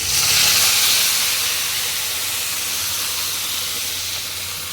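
Lukewarm water poured into hot oil with salt in a pan for Bengali katla fish jhol bursts into a loud, close steam hiss. The hiss starts strongest and slowly eases over a few seconds, with no talking.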